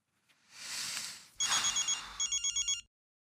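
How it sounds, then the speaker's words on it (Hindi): A short burst of hiss gives way to a telephone ringing in quick electronic trills, two bursts of pulsing rings before it stops. "इस वक्त किसका फोन है?"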